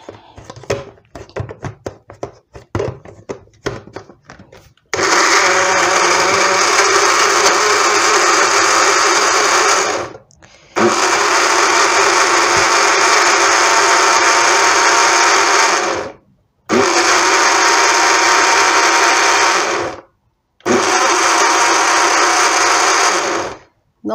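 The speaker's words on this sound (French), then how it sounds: "Là, je mets au mixeur." Kitchen blender pulsing to puree a pineapple smoothie, four loud sustained whirring bursts separated by short pauses, preceded by faint clattering.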